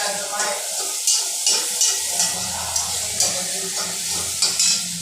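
Onion, green chilies, garlic and salt sauté together in a pan, giving a loud, close, continuous sizzle with regular rhythmic spatula stirs and scrapes against the metal.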